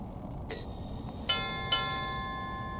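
A vintage ship's bell clock strikes two bright, ringing chimes about half a second apart, each decaying slowly over a quiet room background, with a faint softer tap just before.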